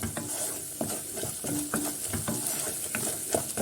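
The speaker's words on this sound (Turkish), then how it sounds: "Unumu da kıymayla beraber şöyle bir 30-40 saniye karıştırıyorum." Flour and minced meat stirred together in a pot for soup, with steady sizzling under repeated scraping strokes of a spoon, close and fairly loud throughout.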